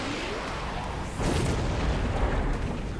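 A missile strike booms in the strategy game Mechabellum, one swelling blast rising over a constant rumble of battlefield noise.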